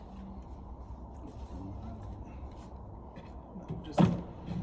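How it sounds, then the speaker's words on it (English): An oak dovetail drawer box is clipped onto drawer runners in a simple kitchen cabinet build. It makes one sharp click-thud near the end, after several seconds of low, steady room noise. "The next thing to do is actually to put the drawer box in."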